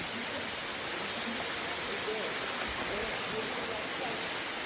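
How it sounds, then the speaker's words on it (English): A waterfall in Lankamalla forest gives a steady, even rushing roar that fills the whole clip with no breaks, close by and loud. "finally we have reached the waterfall guys"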